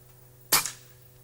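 An air rifle fires a single pellet with one sharp, close crack and a brief decaying tail, standing alone against a faint low background hum.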